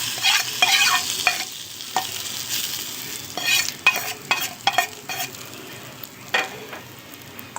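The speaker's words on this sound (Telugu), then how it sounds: "ఈ అన్నంకు ఈ పోపు మొత్తం కలిసేలా కలుపుకోవాలి." Tempering being stirred through cooked rice for lemon rice, a close run of repeated spoon scrapes and clacks against the vessel over a faint sizzle, with irregular rhythm and no talking.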